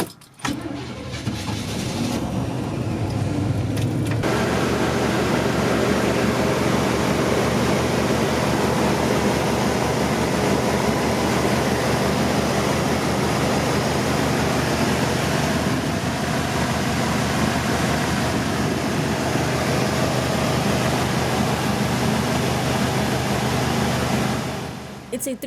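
The 350 V8 (5.7-liter) of an old 1982 Chevy Mobile Traveler motorhome with 126,000 miles cranks briefly, then catches and runs at a steady, loud, close idle for over twenty seconds before cutting off.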